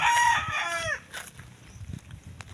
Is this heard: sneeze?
no